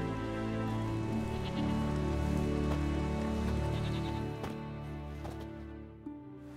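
Steady rain pours in The Witcher 3: Wild Hunt, a continuous even hiss of falling drops over a low sustained tonal background, with no talking.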